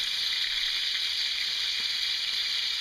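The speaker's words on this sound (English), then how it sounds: "sizzling away. You want to cook them skin side down like this for 2 minutes on high." Chicken thighs fry skin side down in a pan over high heat, a steady, close, bright sizzle with no talking.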